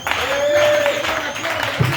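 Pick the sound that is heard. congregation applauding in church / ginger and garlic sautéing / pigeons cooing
congregation applauding in church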